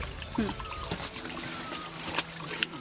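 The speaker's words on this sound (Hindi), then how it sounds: "ये देखिए फ्रेंड्स, जो पहाड़ी झरने का जो पानी आ रहा है, ये भर रहे हैं।" Water from a mountain stream in the Indian jungle trickles quietly into a container, with a soft steady flow and a few small splashes and drips.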